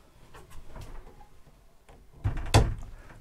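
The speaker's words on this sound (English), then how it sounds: "there's of course a door for this, so that just hinges across" Hinged toilet-compartment door in an Airstream Classic 350LE motorhome swinging shut, a soft rustle followed by a single solid thunk near the end, close and fairly quiet.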